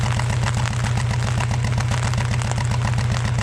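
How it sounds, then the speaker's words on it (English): A 1996 Honda Integra Type R DC2 idles with a loud, lumpy exhaust despite its silencer. A steady deep burble throbs in a fast, even pulse, close and alone. "because it's still really loud. And the exhaust is really lumpy."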